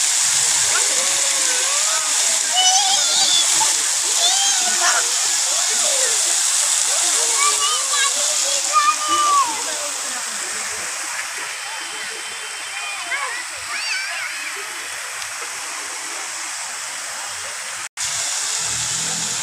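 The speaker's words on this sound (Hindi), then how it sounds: "काफ़ी खूबसूरत झरना है" Waterfall in a children's park in Godda, a constant broad rush of splashing water throughout, with someone talking over it and chirping voices faintly in the background.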